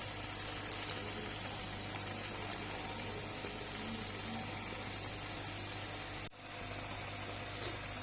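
Grated carrots roast in a pan for carrot halwa, giving a steady, even sizzle with faint scattered crackles throughout and a brief dip near the end, with no talking.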